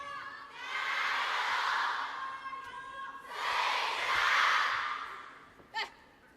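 Spectators at a WTT China Smash 2025 table tennis match between Sun Yingsha and Wang Xiaotong break into two sustained swells of crowd cheering and applause, each lasting a couple of seconds, with a brief sharp shout near the end.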